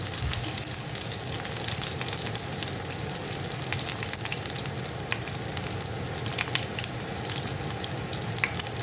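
Peppers and onions frying in a pan for a chicken tikka curry, a constant close sizzle with occasional light crackles and stirring, without any speech.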